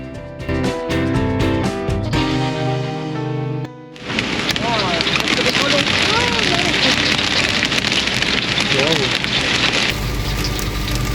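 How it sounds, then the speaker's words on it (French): Hail hammering an old vehicle during a thunderstorm in Canada: after a few seconds of music, a loud, dense, continuous drumming patter takes over and keeps up without a break. "Bon, ça on n'avait pas encore eu, des grelons carrément. Et de l'orage en même temps."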